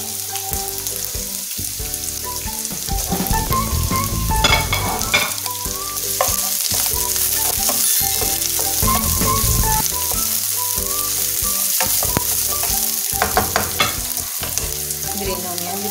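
Carrots and mixed vegetables sautéing in a pan for egg fried rice, a steady loud sizzle and crackle with stirring and scraping throughout, no voices.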